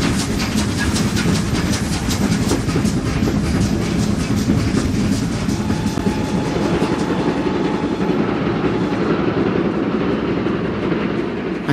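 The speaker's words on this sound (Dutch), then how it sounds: "De trein rijdt dwars door Duitsland, dag en nacht." Train rolling across Germany with a rapid, regular clickety-clack of wheels over rail joints under a loud steady rumble and hiss, the clatter fading toward the end.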